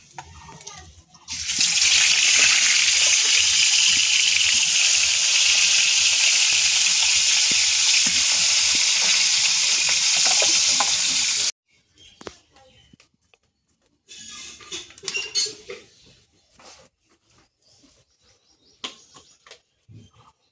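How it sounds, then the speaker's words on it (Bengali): Fish frying in a pan for a banana-and-fish dish sends up a loud, dense, steady sizzle that stops abruptly, followed by quieter clatter and some speech. "দেখো এবার কিন্তু বাকি মাছগুলো ভেজে নেবো।"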